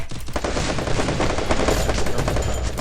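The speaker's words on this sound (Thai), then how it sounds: "นี่กำลังยิงตัวหน้าเลย" Dense, rapid automatic gunfire from a shooting video game, with bursts of shots rattling continuously and loudly with no speech over them.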